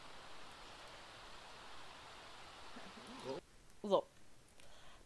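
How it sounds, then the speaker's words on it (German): Steady hissing rain from a thunderstorm in The Sims 4 fills the background at low volume, with short muffled game voices murmuring near the end. "es ist Gewitter"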